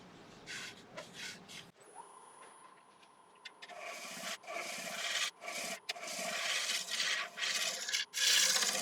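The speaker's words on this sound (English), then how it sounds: "I'll hit it with the negative rake scraper and see how that works on it" Negative rake scraper cutting monkey puzzle wood spinning on a lathe, a steady rasping scrape that builds after a short start and runs continuously with brief dips, fairly close.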